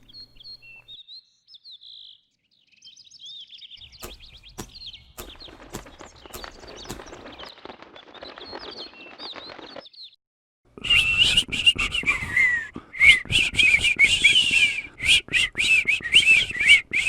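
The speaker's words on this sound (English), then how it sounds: "Soon all the birds were singing the bird-feeding song." Songbirds chirping and tweeting, sparse thin calls at first, then a dense, loud chorus of overlapping bright chirps close by with no talking.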